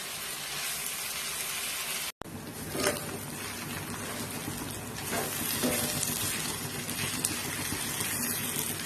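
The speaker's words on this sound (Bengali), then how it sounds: "আরো কিছুক্ষণ নেড়ে চেড়ে ভেজে নিব" Beef tripe sizzles steadily in a pan with cinnamon and cardamom, a continuous broadband frying hiss broken by a brief dropout and occasional scrapes of stirring, close and fairly loud.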